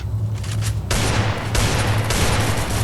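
Rapid, continuous gunfire from the Free Fire mobile game in a crowded convoy mode, dense bursts of loud shooting over a constant low hum with brief pauses between volleys.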